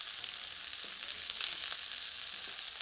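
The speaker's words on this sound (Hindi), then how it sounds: "अब कटी हुई प्याज सम्मिलित करते हैं। इसे हल्का सुनहरा होने तक मध्यम आंच पर भूनते हैं।" Chopped onion frying in a pan over medium heat gives a soft, steady, hissing sizzle with a few faint stirring clicks.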